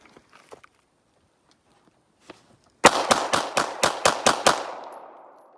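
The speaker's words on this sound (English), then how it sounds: "you're gonna dump as many rounds as you can into him before he falls back down" Eight rapid pistol shots fired in quick succession at a target during a snap shooting test with a Luger P08 or Nambu Type 14, loud and close, following a few faint clicks and handling noises, with a short ringing tail.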